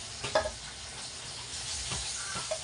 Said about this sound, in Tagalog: sunod natin yung talong. Okay? Pag-brownin lang natin ng kaunti.